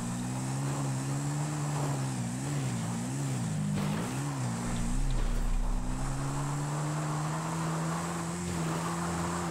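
Motorbike engine in GTA 5 drones steadily throughout, pitch rising and falling in quick wavy revs midway before settling into a constant hum, with wind-like rumble underneath.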